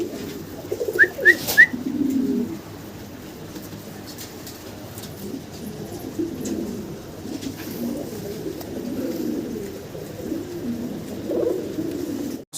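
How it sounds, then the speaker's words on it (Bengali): A pair of red Danish pigeons coos softly and steadily in low rolling phrases, with a few brief bright chirps near the start and no talk over it. "ভিডিও স্ক্রিনে আমরা দেখতে পাচ্ছি রেড কালারের এক পেয়ার ড্যানিশ কবুতর"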